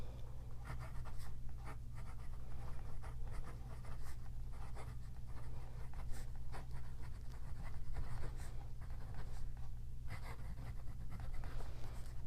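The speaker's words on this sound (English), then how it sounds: "So let's try writing again." Steady scratching of a Cross Apogee fountain pen with an 18K gold, rhodium-plated nib moving across paper, continuous and close, with soft strokes running for about twelve seconds and no talking.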